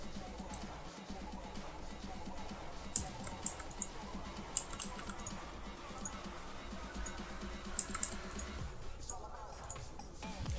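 Computer mouse clicks while selecting leaves in an editing program: scattered sharp, close clicks in small clusters over a low hum, with speech running through it.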